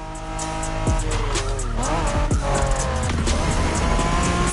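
A Honda NSX engine in the video game The Crew Motorfest roars continuously with tires squealing and the pitch sweeping as it shifts and accelerates, loud and close.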